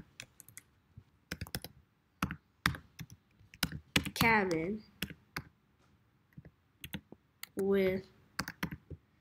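Typing on a computer keyboard: bursts of crisp, close clicks in irregular clusters, with short stretches of speech breaking in between.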